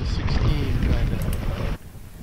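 Steady Beaufort force 4 wind, about 11 to 16 knots, rushes over a sailboat underway, a loud broadband roar that fills the clip and cuts off sharply near the end.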